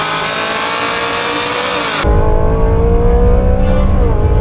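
A race car engine at full throttle holds a loud, steady roar with a rising pitch. After a sudden shift it settles into a deeper, fuller drone, heard up close inside the car, flat out through a fast corner.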